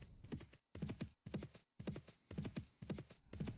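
Horse hooves clip-clop in the Mount & Blade Warband video game, a steady, even gait of rhythmic clusters repeating about twice a second, fairly quiet and with no other sounds.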